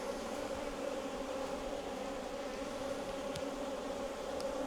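Honey bees buzz in a packed hive frame, a dense, continuous close hum with a steady droning tone and a couple of faint clicks, no voices.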